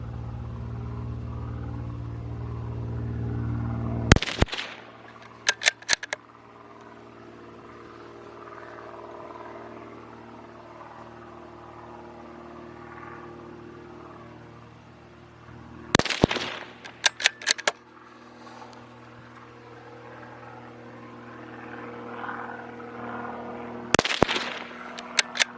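Rifle fired outdoors for a quick five-shot group, a sharp loud crack followed by several quick echoing reports, repeated in three widely spaced bursts over a low steady background hum.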